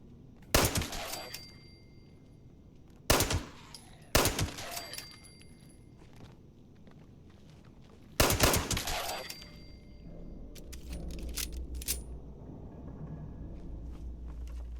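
Pistol gunfire in Fallout 76: a few separate loud single shots spaced seconds apart, each with a sharp crack and a short rumbling tail, then a low rumble and a scattered clatter.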